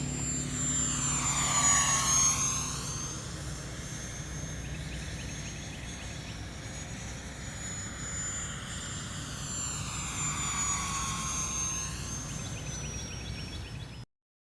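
An E-flite UMX Viper 30mm EDF model sport jet flies overhead, its ducted-fan whine rising and falling in pitch as it passes close, sweeps away and returns, loud and steady throughout with no talk.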